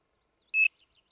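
A Chinese clone of a Garrett pinpointer metal detector gives one short, sharp electronic beep, followed by faint echoing tail chirps in quiet surroundings.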